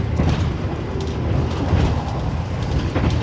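Inside a carriage of the Progo passenger train, a continuous loud rumble and rattle rolls on with faint rhythmic clicks from the track and no voices.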